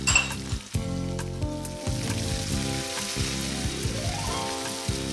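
Tomato, onion, ginger and garlic frying together for a vegetable biryani, a steady close sizzle with stirring scrapes, with a low tonal hum running underneath.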